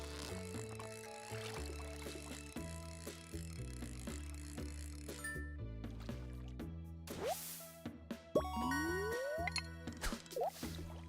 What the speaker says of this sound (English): Why did it give me a chiming sound there?